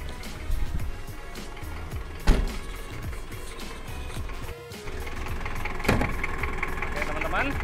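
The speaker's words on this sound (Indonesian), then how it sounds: "untuk mesinnya dia DL42 2800 cc timing gear bosku, kita saksikan bersama-sama." A 1988 Daihatsu Taft's 2800 cc DL42 diesel engine with timing gears runs steadily at idle with a rough, clattering drone, plus a couple of sharp knocks and a brief dip midway.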